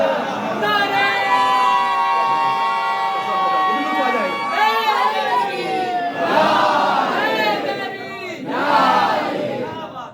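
A large audience at a religious majlis chants slogans in unison, with sustained, ringing shouts that swell, fade and return in loud waves across the hall.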